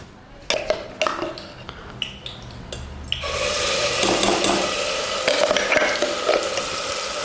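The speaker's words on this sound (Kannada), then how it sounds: "ಫೈನ್ ಪೇಸ್ಟ್ ಮಾಡ್ಕೊಂಡಿರೋದನ್ನ ಚೆನ್ನಾಗಿ ನಾವು ಫ್ರೈ ಮಾಡ್ಕೋಬೇಕು." Finely ground paste is stirred and fried in hot oil, first with sharp spatula knocks on the pan, then a loud, dense sizzle bursts up and continues steadily under further scraping.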